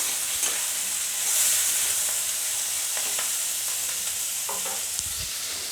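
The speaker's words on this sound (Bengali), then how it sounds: "এখন আমি পেঁয়াজের সঙ্গে, মশলার সঙ্গে কাঁঠালের এঁচড়টাকে খুব ভালো করে ভেজে নেব" Green jackfruit frying with onions and spices in a pan over a medium gas flame, a steady close sizzle with occasional stirring scrapes and clicks, no talking.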